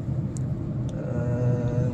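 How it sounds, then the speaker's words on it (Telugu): A steady, low engine drone hums continuously, smooth and even, as a Honda Amaze second-generation S variant cruises in fifth gear at about 30 at an unchanging pace with no voices. "30లో 5th గేర్లో వెళ్ళినా ఇంజిన్ అయితే పెద్దగా దెబ్బతినట్లేదు"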